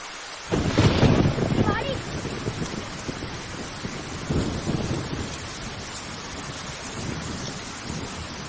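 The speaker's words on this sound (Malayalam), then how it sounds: "അയ്യോ മഴ!" Steady rain hisses throughout, with a low rumble of thunder near the start and a brief voice over the downpour.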